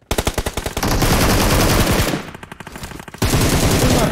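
Rapid automatic gunfire in PUBG Mobile, loud and close, with dense bursts of rounds that briefly drop to a quieter stretch before resuming at full intensity.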